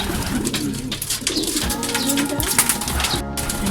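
Racing pigeons coo in a loft at close range, several soft throaty calls overlapping in a steady murmur, with light rustling and a brief chirp near the end.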